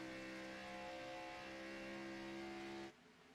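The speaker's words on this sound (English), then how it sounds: "right now we got a 4-car battle going on for the 12th position" Race cars battle for position on a track, a sustained steady engine drone with strong tonal harmonics holding at even loudness before cutting off sharply near the end, heard alone without talk.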